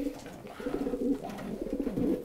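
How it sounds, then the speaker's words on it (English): Pigeons coo softly inside a bird loft, their low rolling calls overlapping in a gentle, continuous murmur at close range and low volume. "Most of these pigeons are late breeds from last year."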